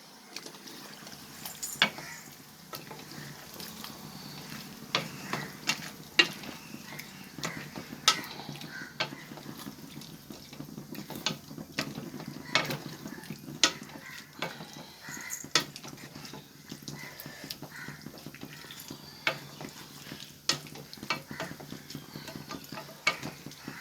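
Country chicken pieces fry in a pan on a stove for a vathakkal dish, giving a soft, steady sizzle and hiss with scattered light clicks and taps throughout, fairly quiet with no talking.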